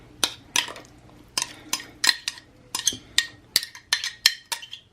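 A spoon or whisk clinks repeatedly against a bowl while crushed bananas and eggs are mixed into banana cake batter, sharp rhythmic taps about twice a second, close and alone.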